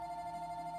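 Telephone ringing indoors during a church chair yoga class, a steady electronic tone sustained through the whole moment at low volume with no talk over it.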